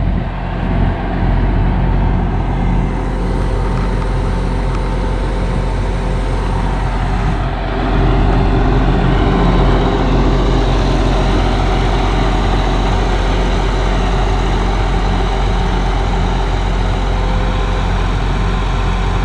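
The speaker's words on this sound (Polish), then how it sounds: "Pokażę wam jeszcze z tej strony i ciągnik." Farm tractor engine idling on a Danish farm during harvest and ploughing, a loud, close, steady low diesel rumble that holds constant throughout, rising slightly in intensity partway through.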